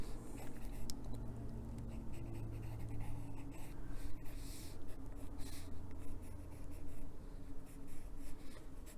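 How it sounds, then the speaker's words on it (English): A pencil drawing knot holes into a wood grain pattern on paper, a steady scratchy writing sound that runs throughout at close range, with no voices. "we're just going to put some of those in with the pencil"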